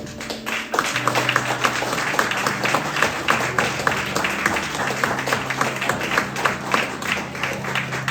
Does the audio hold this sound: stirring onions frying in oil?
no